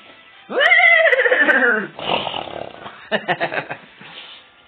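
A man imitates a horse neighing, a loud, strained whinny with a falling pitch, followed by snorting, breathy noises and a short burst of rhythmic, shaky huffs.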